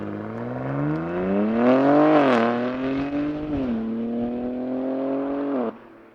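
A BMW G82 M4 Competition with a loud aftermarket exhaust revs up, peaks, then settles into a steady deep rumbling drone before cutting off abruptly near the end.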